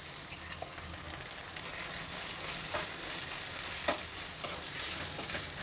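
Onion and a ground masala mixture frying in a pan for pea paratha filling, a steady close sizzle broken by scraping stirs of a spatula, with no talking.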